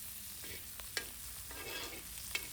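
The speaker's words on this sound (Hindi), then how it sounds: "और इधर चल रहे हैं मिर्च और प्याज का तड़का" Chili and onion tempering sizzles steadily in hot oil while being stirred, with a few sharp scraping clicks of the spoon against the pan breaking through the continuous frying hiss.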